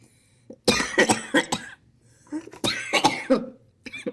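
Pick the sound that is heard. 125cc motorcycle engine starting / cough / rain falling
cough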